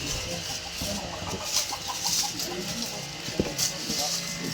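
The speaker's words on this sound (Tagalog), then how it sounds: "Ang ganda ng manok, oh." Chickens cluck in short repeated calls amid a busy outdoor background, with people talking nearby.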